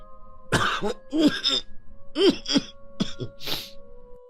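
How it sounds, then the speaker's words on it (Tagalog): A series of harsh, raspy coughs in close succession from a lingering, unhealed cough, several hacking bursts with brief gaps, ending in a breathy exhale. "Hindi pa rin gumagaling ang ubo ko eh"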